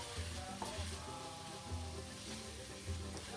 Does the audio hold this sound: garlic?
yes